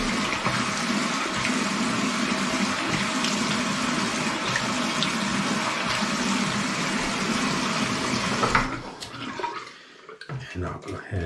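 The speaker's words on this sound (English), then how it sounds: "I'm gonna go ahead and wet my face real good." Running water from a tap splashing steadily for several seconds as a face is wetted before shaving, then cutting off abruptly, followed by faint small handling sounds.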